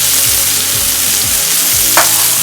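Karela, bitter gourd with its peel on, frying with salt and turmeric in a pan over a lowered flame, a loud steady sizzle close up with a few scraping stirs and no talking.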